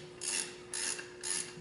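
A crank sprocket bolt on a 2010 Harley-Davidson Ultra CVO is tightened to 170 foot-pounds, giving three evenly spaced, drawn-out rasping pulls over a steady faint hum, close and moderately quiet.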